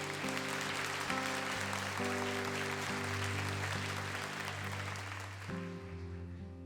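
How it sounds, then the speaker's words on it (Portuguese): A church congregation applauding at an evening praise service led by a Catholic priest: sustained, dense clapping from many people fills the room, mixed with sustained organ or keyboard chords, fading slightly toward the end. "Pode aplaudir a palavra de Deus, por favor."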